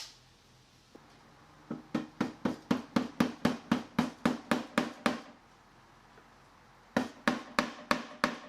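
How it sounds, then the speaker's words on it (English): Quick, evenly spaced hammer blows drive staples into a wooden bat in a fast run, pause briefly, then resume. Close and sharp, no talking. "we'll just pound these staples in with a hammer"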